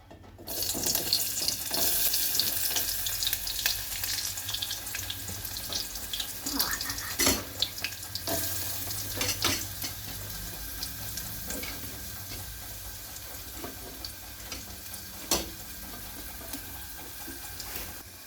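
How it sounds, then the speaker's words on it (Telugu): Onions frying in a pan for egg curry, a steady close sizzle with occasional scraping and clinking of stirring. "ఈ ఆనియన్స్ అయితే ఇట్లా వేసేసుకుందాం."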